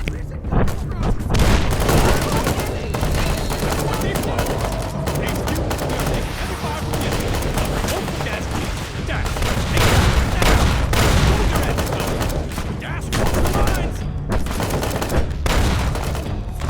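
Rapid, continuous gunfire from Legion snipers in the game Fallout: The Frontier, dense overlapping shots and booms throughout, with a voice talking over the battle.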